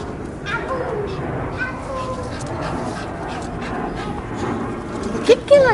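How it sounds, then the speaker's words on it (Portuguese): A Campeiro bulldog pants heavily and whimpers up close, with a few sharp yips near the end, while people talk over it. "Ah, cachorra tarada."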